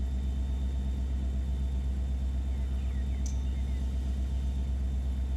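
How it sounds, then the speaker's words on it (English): An SD70 diesel locomotive engine in the Run 8 train simulator game, a steady low idling rumble with a throbbing mechanical drone, loud and unchanging, with a faint brief chirp partway through. "I like the way the SD70 sound in this game."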